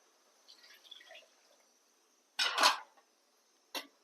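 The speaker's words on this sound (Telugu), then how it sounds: "ఒక గ్లాసుడు వాటర్ పోసుకోండి" Water is poured into a cooking pan for a flat bean and tomato curry, heard as a short, loud splashing burst and then a second brief splash after a quiet pause.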